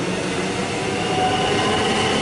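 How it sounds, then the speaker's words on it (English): An express train departs Keon Park station in Melbourne and rolls past close by with a steady, loud rumble and the rattle of rail cars, no pauses throughout. "We've got an express departing"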